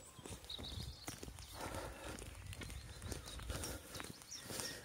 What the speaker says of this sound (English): oh, horses! Horses! Wow!